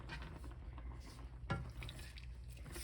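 Vegan soy milk cream pasta being stirred in a pan, a soft continuous scraping and sloshing with a faint sizzle underneath and one sharper clink of the utensil partway through.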